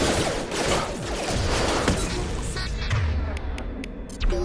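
Gunfire in the Mass Effect 2 video game comes as a dense, rapid barrage of crackling shots and impacts that eases off toward the end.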